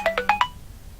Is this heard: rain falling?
no